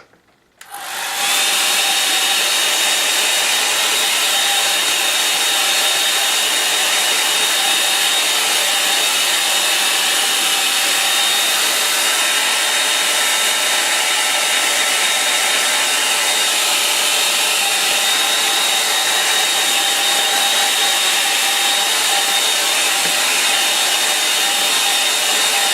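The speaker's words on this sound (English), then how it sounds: "I'm going to use my hairdryer" A hairdryer blows on a watercolour painting, switching on abruptly and then holding a loud, steady whooshing hum with a fine whine running through it for the full duration.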